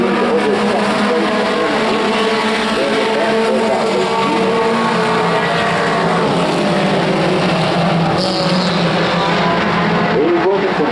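Pro 4 race trucks roar around Evergreen Speedway, their engines droning continuously and loudly for about eleven seconds under an announcer's running commentary.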